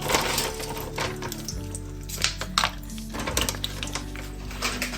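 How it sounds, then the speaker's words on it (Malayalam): Chaat snack pieces sizzle and crackle in hot oil with a dense, steady frying hiss, broken by a few clinks of a utensil against the pan. "നമ്മുടെ എണ്ണ ചൂടായിട്ടുണ്ട്. നമ്മളിനി ഇടാൻ പോവുകയാണ് നമ്മുടെ ഐറ്റം."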